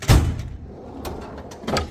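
A large metal wrench drawer in a toolbox rolls open with a loud bump at the start, followed by lighter slides and clicks a moment later, close up with no talking.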